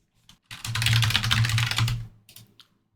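Fingers type a quick run of keystrokes on a computer keyboard while entering a username, a dense close clatter lasting about a second and a half between short quiet gaps.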